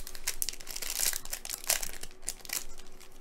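Plastic packaging for Pokemon cards crinkles and crackles in quick irregular bursts, close and fairly quiet, with no one speaking.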